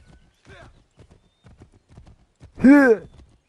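Horse in Assassin's Creed 3 video game, with soft hoof steps scattered through the clip and a loud whinny-like call near the end.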